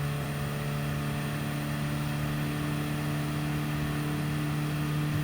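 A steady engine drone hums continuously, a strained, unchanging motor tone of a struggling car in Gran Turismo 7, with no talking over it.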